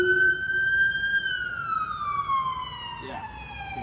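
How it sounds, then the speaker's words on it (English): A Honolulu police car siren wails down on the street, a single steady tone that slowly falls in pitch as it passes, heard at moderate distance with low traffic rumble beneath. "I apologize for the sirens down there."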